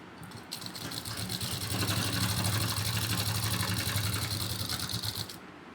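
Fast, even whirring chatter from a sewing machine stitching a pocket onto a ladies' kurti, running continuously for several seconds before stopping abruptly.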